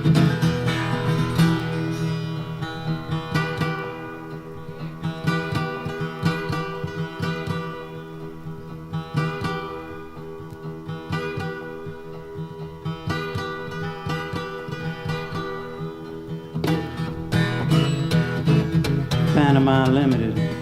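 Harmonica or similar instrument imitating a local freight train whistle blowing in the distance north of town, live at the 1974 Philadelphia Folk Festival, with sustained wailing chords over steady rhythmic accompaniment.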